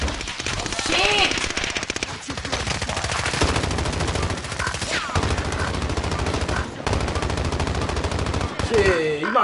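Sustained automatic gunfire in the video game Warzone, loud, rapid and continuous bursts with brief pauses, mixed with game effects and occasional voices.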